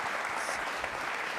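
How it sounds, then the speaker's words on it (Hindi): A studio audience at a Republic Day quiz program on Rajasthan television claps in a short, even burst, soft and somewhat distant. "तालियां इसके लिए एक बार पहले जोरदार हो जाएं"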